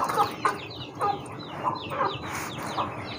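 Young chicks being bathed and cooled in a small pool of water in summer heat cluck and chirp in quick repeated calls close by, with no talking.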